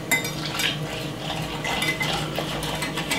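A whisk stirring plain cornmeal with milk in a bowl for porridge, with quick light metallic scraping and clinking strokes at close range, steady and fairly quiet.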